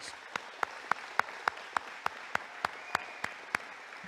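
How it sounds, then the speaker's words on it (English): At a California Aeronautical University graduation ceremony, sharp, evenly spaced claps ring out about three per second, distinct single hits over a faint background murmur, fairly quiet and steady throughout. "So graduates, let's give them a big round of applause."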